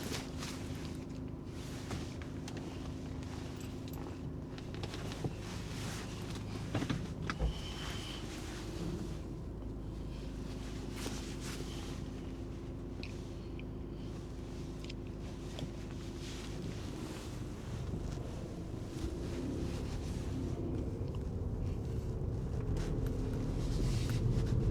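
A VW Scirocco Sport drives along a road, its engine hum and road rumble droning steadily and growing slightly louder toward the end, with some wind noise.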